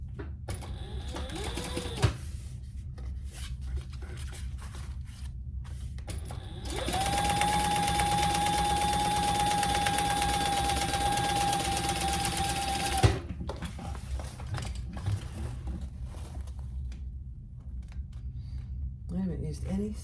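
A sewing machine runs steadily for several seconds, top stitching a tote bag, with quieter handling and a speaking voice before and after the stitching.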